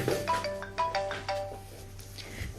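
A phone ringtone plays a repeating melodic pattern for an incoming call from the caller's mother, clear and fairly close, with no talk over it.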